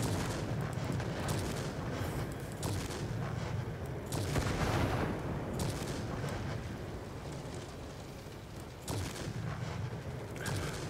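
Heavy 37mm cannon on a Ju 88 in World of Warplanes, booming in repeated rough bursts over a constant engine drone, with no talking.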